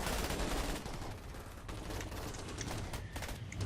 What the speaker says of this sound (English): They are actually turning around and shooting backwards.